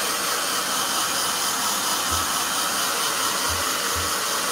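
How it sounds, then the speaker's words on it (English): A hair blow dryer runs continuously with a steady, close, loud broadband whoosh and a few faint low bumps partway through. "Blow dryer."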